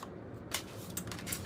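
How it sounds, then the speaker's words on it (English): Tarot cards being shuffled by hand, giving a few brisk papery riffles and bursts, close and moderately quiet, with no talking. "These are not the easiest cards to shuffle the way that I like to shuffle."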